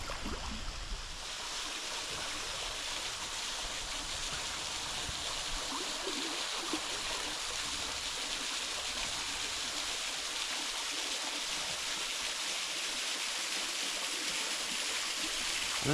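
A waterfall at Lake Malone, Kentucky pours in a steady broadband rush, with water falling from both sides in a continuous, even hiss and no speech.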